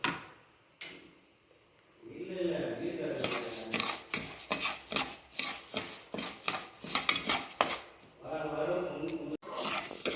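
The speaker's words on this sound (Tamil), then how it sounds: "அதே கப்பில் பாசிப்பயிறு 3/4 கப்பு எடுத்துருக்கேன். இதையும் நல்லா நம்ம ஃப்ரை பண்ணிக்கலாம்." Three-quarters of a cup of mung beans dry-roast in a pan, stirred so a utensil scrapes through them in a rhythmic series of gritty strokes, with quieter pauses before and after.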